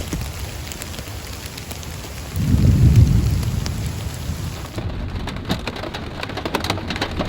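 Heavy rain pouring outdoors during a thunderstorm, a constant dense hiss of drops with a deep rolling rumble of thunder swelling midway, then steady downpour continuing.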